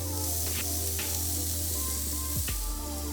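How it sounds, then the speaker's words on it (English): Steady, loud sizzling of beef satay skewers on a hot grill, a constant crackling hiss with a few sharper pops and spits. "Ooh, you can hear it sizzle already."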